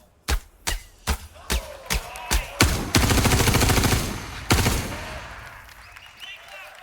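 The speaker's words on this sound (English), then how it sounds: "And then this next demo, we're going to fire some bullets." Gunfire striking a water puddle in a Star Citizen game demo: about eight sharp, evenly spaced shots, then a rapid stuttering burst and one last loud crack before a fading tail.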